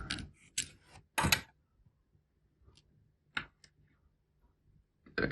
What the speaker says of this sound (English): Now we unscrew the barrel.